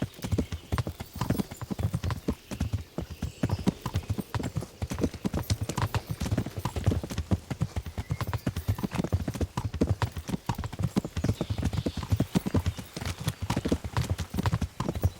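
Horse hooves clip-clop at a steady trot through the whole stretch in Kingdom Come: Deliverance, loud and close, with a faint whinny and little talk over them.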